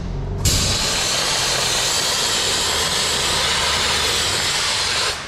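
A Dry Ice Champ Turbo dry ice blaster cleans a vehicle undercarriage with a loud, steady blast of hissing air that starts abruptly and holds level for about five seconds, then cuts off.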